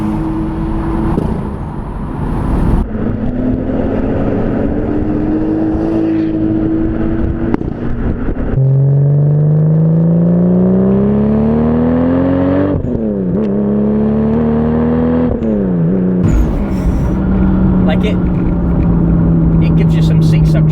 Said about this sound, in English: The blower valve you can hear is the HKS SSQV blower valve.